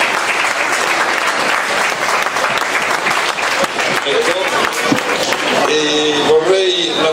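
A crowd applauds the maker of a sundial at a presentation, with dense, loud clapping throughout and voices speaking over it toward the end.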